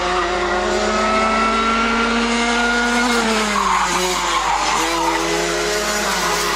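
Racing cars roar around a circuit in a close race, engines droning loud and steady with rising and falling pitch as they pass through corners, tyres squealing, continuous throughout.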